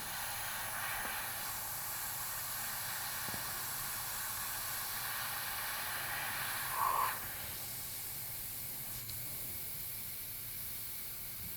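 A spray gun hisses as it sprays water-based paint, a faint, steady airy wash with a brief louder burst partway through.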